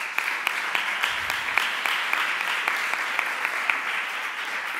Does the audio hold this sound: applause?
yes